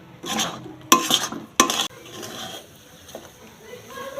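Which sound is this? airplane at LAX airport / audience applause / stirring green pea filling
stirring green pea filling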